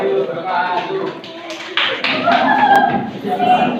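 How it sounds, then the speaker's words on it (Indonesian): Students in a classroom clap for a presentation, scattered uneven hand claps building in the second half, with people talking and some laughter over the clapping. "Beri tepuk tangan yang banyak."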